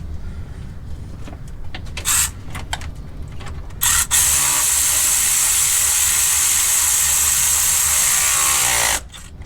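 A ratchet wrench tightens cooling fan mounting hardware on a 2006-2011 Ford Crown Victoria, a few short clicking bursts followed by a long, steady, hissy mechanical whirr close to the microphone that cuts off abruptly.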